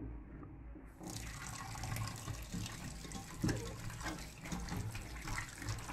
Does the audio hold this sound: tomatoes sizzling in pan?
no